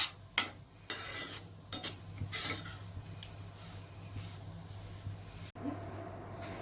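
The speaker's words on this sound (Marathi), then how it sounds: "रवा चांगलं मिक्स करून घेऊ तेलात रव्याचा खरपूस वास येईपर्यंत रवा व्यवस्थित भाजून घेऊया" Fine semolina roasting in hot oil in a pan, stirred with a spoon: a continuous low sizzle broken by repeated scraping strokes and clinks against the metal, close up with no talk.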